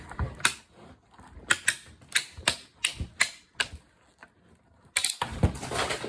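Sandwich plates cranked through a manual die-cutting machine while making Stampin' Up! Many Messages tags: a run of sharp, evenly spaced mechanical clicks and ratcheting thunks, close and moderately loud, ending in a denser burst of grinding clatter.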